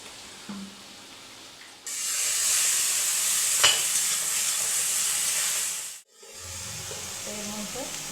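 Spice masala for chole frying and being stirred in a pan: a steady, loud sizzle starts about two seconds in, holds for several seconds, breaks off briefly, then returns more quietly.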